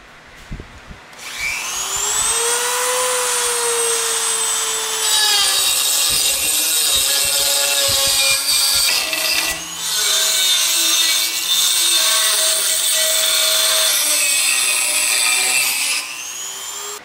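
A power saw cuts through aluminum with a loud, continuous high-pitched whine and grinding rasp, sustained for around fifteen seconds with slight shifts in pitch as the blade bites.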